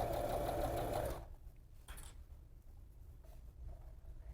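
A sewing machine stitching the sleeve of a tweed Chanel-style jacket, running loud and steady for about a second before stopping, followed by quieter handling sounds of the fabric being held and guided.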